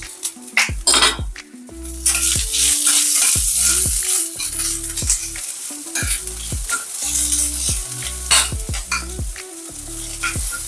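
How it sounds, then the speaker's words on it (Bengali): Chicken sizzles in hot oil in a pan with fried rice while a metal spatula stirs and scrapes, giving repeated clinks and knocks over a continuous close frying hiss. "এবার চিকেনটা দিয়ে দিলাম।"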